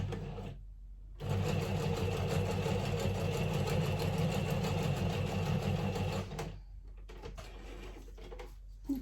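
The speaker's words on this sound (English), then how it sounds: "I'm just putting another line of sewing on here," Domestic sewing machine stitching a zigzag line on a junk journal page, a close, steady mechanical whirr with rapid needle rhythm running for several seconds after a short pause, then slowing and stopping.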